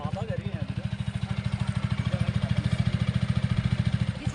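A motorcycle engine runs steadily in a mountain village in Uttarakhand as a boy sets off by bike, a fast, regular low thrum heard beneath people talking.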